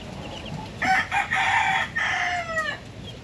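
A rooster crows loudly and close on a farm among hens and newly hatched chicks, one long cock-a-doodle-doo with a trailing rise, preceded and followed by faint peeps and clucks.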